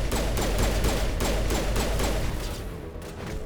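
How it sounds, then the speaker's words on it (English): Rapid gunfire from a pistol in the game Mass Effect, a dense run of sharp cracks with a busy, continuous battle texture, loud and close, thinning slightly toward the end. "At least the pistol sounds different."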